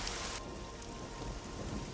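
Steady rain falls and patters across surfaces, a soft continuous hiss with no voices.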